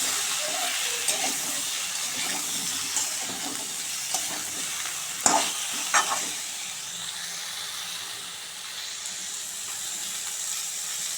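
Vegetables seasoned with salt and turmeric are stirred in hot oil in a pan in a village kitchen, giving a steady close sizzle with scraping stir strokes and a sharp clack midway; no one speaks.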